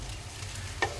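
Okra being mixed with spices in a pan over a low flame gives a brief, soft sizzle with a faint stirring rustle and one light utensil tap near the end, with no talking.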